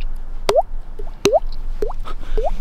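A person mouth-imitates water droplets, making four clear, bright plinks spaced about half a second apart, each a quick rising pop like a drop falling into water, close and alone without talk.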